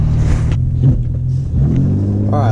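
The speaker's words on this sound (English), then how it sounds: "Sport mode, good traffic, flooring it." A BMW E24 in sport mode accelerating at full throttle through traffic, a loud, steady engine roar heard from inside the cabin, with brief gear-change dips and rising pitch.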